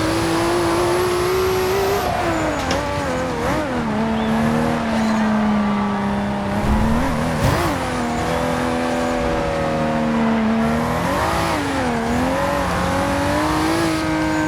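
Tuned 1000hp Toyota Supra engine in Forza Horizon 2, droning steadily at high revs with pitch dips and rises as gears shift, loud and continuous with no talk.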